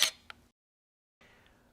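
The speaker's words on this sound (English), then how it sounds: "Now simply take the picture." A Canon T5i digital SLR fires its shutter once: a soft, close mechanical click and clack, a brief quiet gap, then faint residual noise, with no talking.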